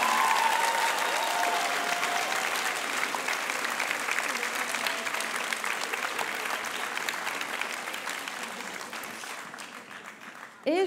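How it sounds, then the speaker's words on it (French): Sustained applause from an audience for high school students at a speaking contest final, dense and loud at first and slowly tapering. It ends abruptly with a brief sound. "Je pense qu'on peut une nouvelle fois applaudir les lycéens et lycéennes pour leur minute rhétorique"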